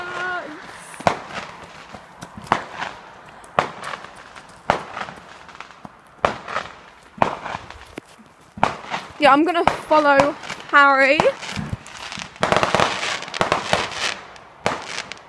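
Fireworks and firecrackers bursting on bonfire night, with sharp cracks and bangs scattered irregularly, some near and loud, mixed with whistling shrieks midway and a denser crackling barrage toward the end, while people talk over them.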